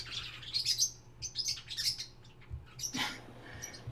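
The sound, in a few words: pet birds chirping in the background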